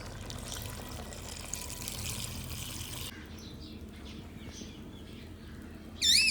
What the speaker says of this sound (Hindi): अब मैं इसमें डालूंगी चावलों के लिए पानी।